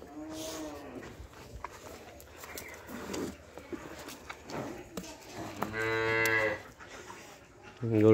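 A cow let out at a home yard moos twice, once early and a louder, drawn-out call near the end, with rustling, movement and a person speaking quietly in between.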